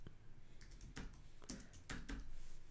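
Close typing on a computer keyboard, a handful of distinct key taps in an uneven rhythm over quiet background, no talk.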